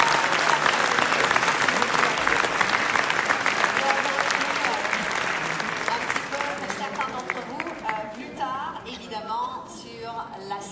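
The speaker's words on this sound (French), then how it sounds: "Merci de les applaudir encore une fois." An award-ceremony audience applauds in a full, loud burst that gradually thins out, with scattered voices and cheers rising as the clapping fades.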